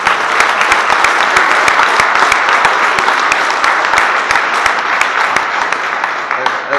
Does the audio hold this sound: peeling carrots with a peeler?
no